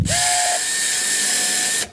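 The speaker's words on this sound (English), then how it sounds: "Essentially we're gonna drill that first hole" A power drill bores a hole into the plastic of a Shappell Jet Sled HD, a steady whining drone lasting about two seconds with a brief higher motor pitch at the start.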